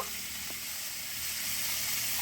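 Red amaranth stems fry with salt and turmeric in hot oil, giving a steady close sizzle and hiss that holds the whole time and swells slightly toward the end.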